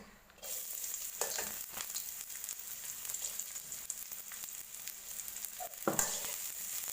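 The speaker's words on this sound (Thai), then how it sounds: "มาดูป้าผัด ผัดไส้จ้ะ" Sweet-salty sago filling of chopped shallots and sugar stir-fried in a pan: a bright, continuous sizzle begins abruptly, with a few louder spatula scrapes and stirs breaking through. No voices.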